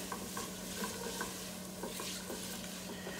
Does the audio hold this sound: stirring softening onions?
yes